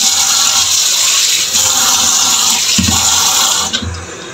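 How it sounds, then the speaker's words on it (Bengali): Water pours steadily from a vessel into a bowl of mustard flower fritter batter, a continuous splashing trickle for several seconds, close by, tapering off near the end. "এখন একটু জল দিয়ে দিচ্ছি।"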